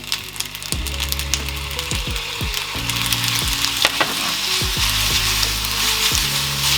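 Udon noodles stir-frying in a pan with dark soy sauce, a steady bright sizzle broken by repeated scraping and clattering strokes of a utensil against the pan, close and continuous without speech.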